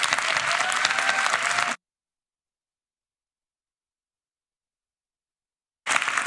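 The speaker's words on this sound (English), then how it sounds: "Let's give them another round of applause." Conference audience at a youth suicide prevention event breaks into broad, steady applause, loud and close, lasting under two seconds before cutting to silence, then returning abruptly near the end.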